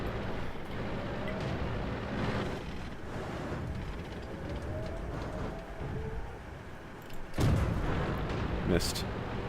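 A tank cannon fires once in the World of Tanks video game, a sharp boom late in the clip over a busy rumble of game engine noise and faint talk.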